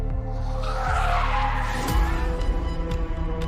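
Car tires skid hard under heavy braking on a road, a long loud squeal over engine rumble that rises and then cuts into a lower grinding stop, close and dramatic.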